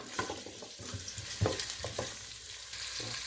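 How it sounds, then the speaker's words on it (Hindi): Sliced onions frying in hot oil with whole spices and bay leaf, a dense close sizzle broken by several scraping stirs of the pan. "इससे मैं प्याज गोल्डन करके अभी दिखाती हूँ"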